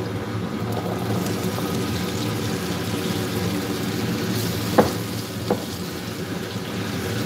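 Yam pieces frying in a pan for yam cake, a steady soft sizzle and bubbling crackle at moderate level, with two brief sharp pops near the end and no talking.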